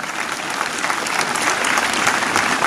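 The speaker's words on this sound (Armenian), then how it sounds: "Եվս մեկ անգամ ծափահարություններ ու շնորհակալություն" Audience applause at a concert celebrating the Alliance Française of Armenia's 15th anniversary, a dense, steady wash of clapping from a crowd, heard alone without speech.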